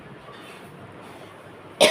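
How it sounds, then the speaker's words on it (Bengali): A single sharp cough bursts out close and loud at the very end, after a quiet stretch of low room noise. "কাশি আসতেছে"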